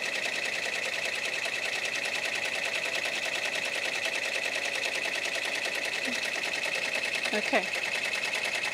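An embroidery sewing machine stitches a design onto a denim jeans leg held in a hoop, making a steady, dense mechanical whir that runs throughout at close range, with a brief spoken word near the end.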